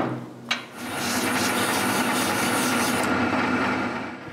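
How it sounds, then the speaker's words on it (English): A metal rod is filed by hand during a CNC fourth-axis build: after a short sharp click, a close, continuous rasping scrape sets in and carries on evenly for several seconds before easing off, with no voices. "Add some support and continue filing the rod."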